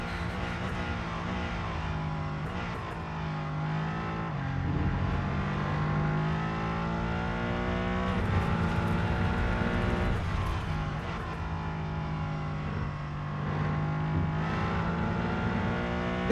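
A Mercedes race car engine in the Rennsport racing game drones and revs continuously, rising and falling through gear changes as it accelerates along the track, steady and prominent with no talking.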